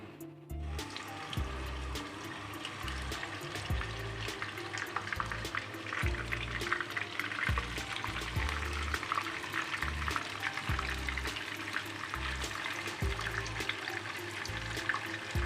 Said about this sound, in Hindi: तमाम कोफ्ते हमने डाल दिए हैं। अब इनको करेंगे थोड़ा सा फ्राई करेंगे।